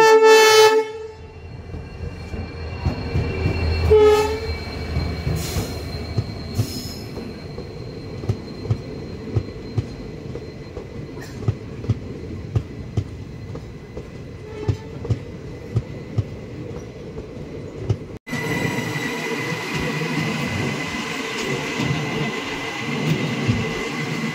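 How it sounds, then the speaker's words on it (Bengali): The Sealdah Kanchanjunga Express, hauled by a WDG diesel locomotive, passes with a loud horn blast at the start, followed by steady rhythmic clatter of wheels over rail joints and a sudden shift in noise near the end. "এক্সপ্রেস, যেটা আসছে সাবলুম থেকে আর যাবে আমাদের শিয়ালদহ"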